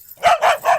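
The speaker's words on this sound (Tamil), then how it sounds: "என்னைக்கு இல்லாம நம்ம நாய் இன்னைக்கு இப்படி குலைக்குது?" A pet dog gives three quick, close barks in a fast rhythm, loud and yappy, with nothing else over them.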